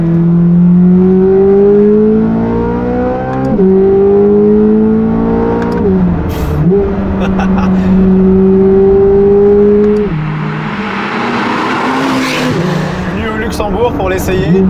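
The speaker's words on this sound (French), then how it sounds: "cette Corvette C8 Z06 et son V8 Atmo. C'est une sonorité qui est étonnante à retrouver en 2024 quand même dans une voiture neuve." A Corvette C8 Z06's naturally aspirated V8 revs up through several gears, each pull rising in pitch before a shift drops it back, loud and close, driven on small Luxembourg roads.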